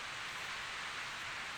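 Steady broadband rush of wind-driven rain in the Corpse Party horror game, a constant hiss of heavy downpour with no pauses or voices.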